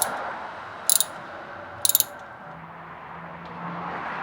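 Two short, quick bursts of ratchet clicks come from a ratchet turning a 10mm bolt on a car's front strut cover, close and distinct against a quiet background.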